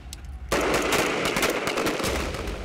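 Rifle fire rings out at a military shooting drill, a sudden loud burst of rapid shots that starts after a half-second lull and keeps cracking over a continuous echoing roar.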